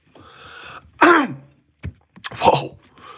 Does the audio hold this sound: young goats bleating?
no